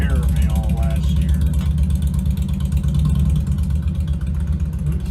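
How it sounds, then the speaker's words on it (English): Motorcycle engine outside a door, a steady low rumble that holds through the whole stretch with a faint voice near the start. "Speaking of motorcycles, we got one outside the door."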